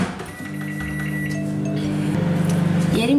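A microwave oven hums steadily while heating milk, a constant close electrical drone with a faint rattle and a brief tonal shift near the end.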